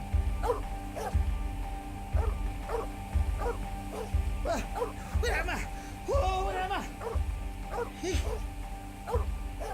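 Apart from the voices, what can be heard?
dog barking in a video game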